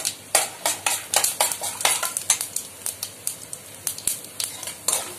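Mustard seeds and chana dal frying in oil in a pan for Tamil-style lemon rice, giving a steady run of sharp crackles and pops with a few metallic clinks, close and fairly loud with no talking.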